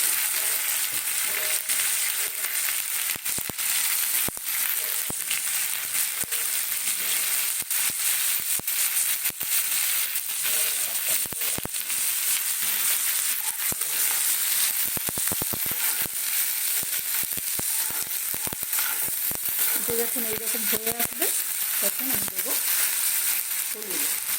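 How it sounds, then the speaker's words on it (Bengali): Ginger, green chili and onion sizzling in hot oil in a pan while an egg omelette curry is made, a steady close hiss of frying with scattered crackles and occasional stirring scrapes throughout. "আদা কাঁচা লঙ্কা দিলাম আর দিলাম পেঁয়াজ"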